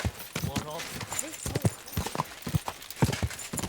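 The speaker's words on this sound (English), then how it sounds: "Easy, good horse." Horse hooves clip-clop in steady rhythm in Kingdom Come Deliverance II, with a short whinny early on, close and clear beneath a voice talking calmly to the animal.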